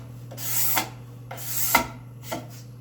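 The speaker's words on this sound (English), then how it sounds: "I'll take a card scraper just one final time. And I'm just worrying about the inside surfaces." Three slow, separate strokes of a card scraper smoothing the inside wood surfaces of a spice rack, each a close rasping scrape ending in a sharper bite, over a steady low hum.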